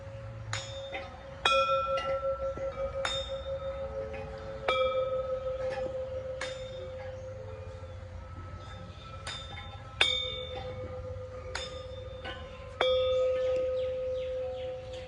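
Metal bells at a temple in Thailand are struck one after another, each clear ringing strike followed by a long sustained hum, sounding close and loud over a low background murmur.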